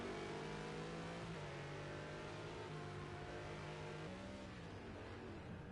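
A McLaren race car engine in Project CARS 2 drops through a tight hairpin, its whine shifting pitch steadily as it revs and decelerates, loud and continuous with no talking.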